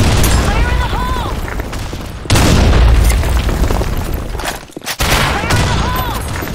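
Grenade blasts in a video game's urban combat, loud booming detonations with heavy rumble and gunfire crackle, one big hit after a short quiet gap, under shouted voices.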